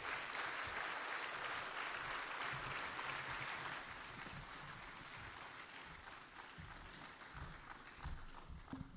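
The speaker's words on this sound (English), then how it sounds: "give a mighty, mighty clap to His Excellency the President" Standing audience at the official opening of a microbiology laboratory in Syokimau, Machakos County, gives sustained applause to the President, a continuous, fairly distant wash of clapping that eases slightly toward the end.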